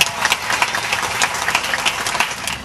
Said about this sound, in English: give Jedi a big round of applause.